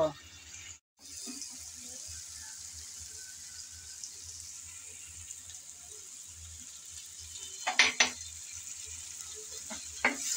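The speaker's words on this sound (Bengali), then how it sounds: "আবারও টমেটো দিয়ে ভালো করে নেড়েচেড়ে কষিয়ে নেব।" Chopped tomato is stir-fried with dried fish and spices in a pan, making a quiet, steady sizzle with soft stirring and a short burst of sharper spatula scrapes near the end.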